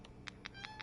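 A cat named Pesto meows in the game A Quiet Place: The Road Ahead, giving four or five short, clear mewing calls in an even rhythm over a low, quiet background hum.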